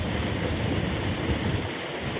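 Water from the Dindi project rushing through the canals into a village after heavy rains, a steady, broad, churning flow with no pauses and no voices.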